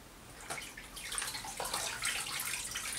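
Water runs and splashes softly while a charcoal face mask is rinsed off a face, a faint continuous trickle with uneven splashing, close and quiet.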